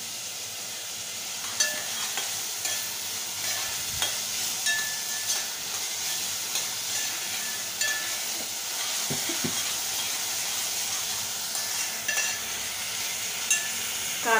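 Onions fry in a pan with a continuous, even sizzle and hiss, joined now and then by light clicks and scrapes of stirring, close and steady, with no talking.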